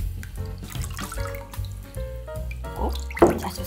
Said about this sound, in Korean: 앞에 준비된 진미채에다가 물을 좀 충분히 넣어서 한번 슬쩍 씻어 줄게요